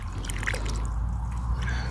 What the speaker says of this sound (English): I need some water. I'll wash my carrot.